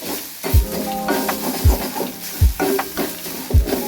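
Beetroot thoran with ground coconut mixture being stirred in a pan of hot coconut oil, Kerala style: steady sizzling frying with four distinct scraping stirs of a spoon against the pan, close and fairly loud, no talking.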